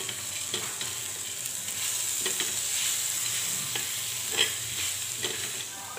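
Roasted peanuts are stirred into chilies frying in oil, giving a steady close sizzle with repeated scraping strokes of a spoon against the pan and no speech.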